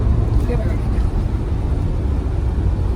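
A new Mahindra car rolls along a road with the steering wheel let go, its engine and tyre rumble a steady close drone beneath people talking.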